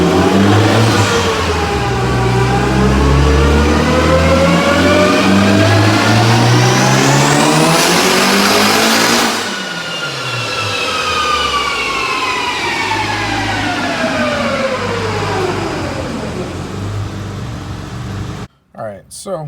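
Supercharged Dodge Challenger Hellcat Redeye V8 on a dyno, its engine climbing through a long loud full-throttle pull with rising whine, then dropping off and winding down, close and dominant.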